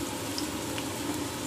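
Onion and garlic sautéing in a pan, a steady even sizzle with no pauses, close and moderately loud.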